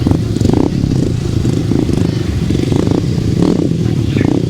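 Solo 350cc motorcycles race on a grasstrack, engines roaring continuously and loud, with pulsing revs and clattering from the pack passing close.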